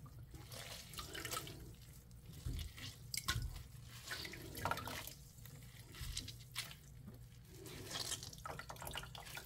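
Water dropwort being rinsed under cold running tap water in a sink, with steady splashing, dripping and handling of the wet greens, close and moderately quiet.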